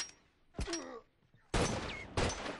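Sniper gunfire in The Last of Us multiplayer, a 2v2 match, with a sharp shot near the start and two loud, close blasts later, separated by quieter game ambience.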